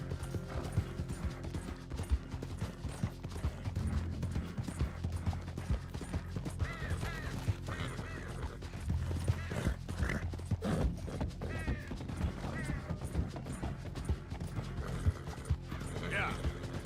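A horse gallops in Red Dead Redemption 2, its hooves beating a quick, steady rhythm amid clattering tack and game ambience, moderately loud throughout.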